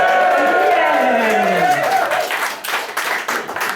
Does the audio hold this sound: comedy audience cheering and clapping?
yes